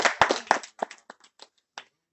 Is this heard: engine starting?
no